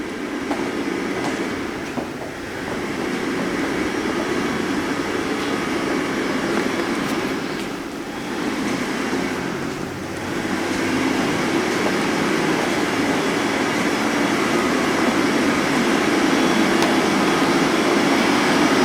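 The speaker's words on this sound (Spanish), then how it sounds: "¿Qué es eso? Como una secadora, ¿no?" A steady, dryer-like machine whir drones without a break inside the Estadio Nacional Doroteo Guamuch Flores stadium, a broad continuous rumble with slight swells and no voices.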